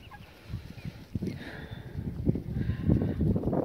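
Chickens cluck and a rooster call rises among farmyard fowl, fairly close, with scuffling and rustling building toward the end.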